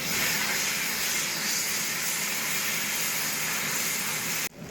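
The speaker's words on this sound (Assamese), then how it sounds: "পিয়াজটো ভাজি কৰি লওঁ লগতে ভাজি কৰি লওঁ আদা ৰসুন" Onion, ginger and garlic fry in a pan for a fish dish, giving a loud, even hiss of oil that is broken by a sharp cut near the end.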